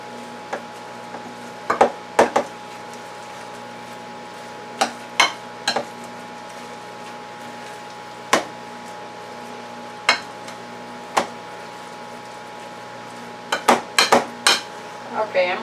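Meatloaf ingredients being stirred in a bowl, with scattered clinks and knocks of a utensil against the bowl over a steady low kitchen hum, sharper clusters near the start and end.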